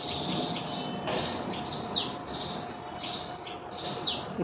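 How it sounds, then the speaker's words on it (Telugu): Small mixed birds chirp repeatedly in the open, high sharp tweets arriving in short bursts about once a second over a steady background hiss, fairly close and clear. "ఇప్పుడు మిక్స్డ్ బర్డ్స్ అన్నీ అరుస్తున్నాయి."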